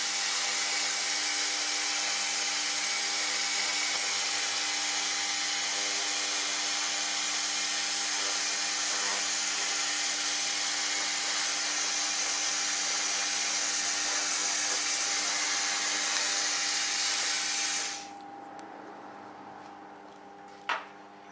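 An Acctek 1000W fiber laser cleaning machine scans across metal, a steady, loud, even hiss with a fixed hum underneath that runs unbroken for about eighteen seconds, then cuts off abruptly to near quiet with a brief click near the end.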